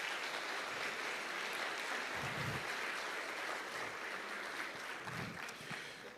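Steady applause from a church congregation during a conference service, a broad continuous wash of clapping held at even strength for several seconds and tapering slightly at the end.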